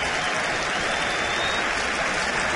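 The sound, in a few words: baseball crowd clapping on a strike two count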